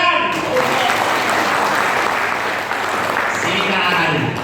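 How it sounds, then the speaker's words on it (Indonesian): A crowd gives a dense, loud round of applause that holds steady for several seconds and fades slightly at the end, with no voices over it. "Tepuk tangan."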